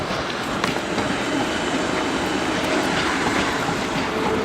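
South Western Railway Class 450 electric multiple unit, a pair of coupled units, running at London Waterloo: a steady, continuous rumble and rail roar with faint clicks, holding an even level throughout without voices.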